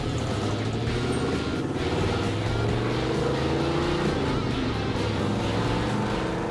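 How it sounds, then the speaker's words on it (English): A 1967 Mercury Cougar's 850-horsepower Cosworth V8 revving hard during a road test, a loud, steady, close engine roar with strong low harmonics that drift slightly in pitch as it holds high revs. "what is that big Cossi engine capable of?"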